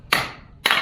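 Two sharp, loud cracks about half a second apart as a kindling cracker splits firewood, each a bright percussive snap with a short decaying ring, nothing else around them.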